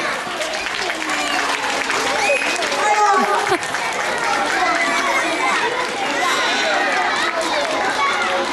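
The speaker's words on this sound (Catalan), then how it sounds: "Un aplaudiment per a ells." Crowd applause at a children's school carnival parade, steady clapping mixed with chatter and movement, with a voice speaking over it throughout.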